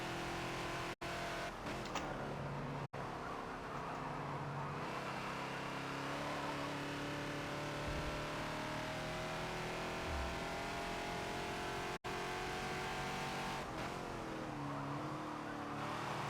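Race car engines roar and rev continuously at Road America in the Forza video game, with a Ford Falcon XB and Fairlane on track, loud and sustained with tire squeal and no talking.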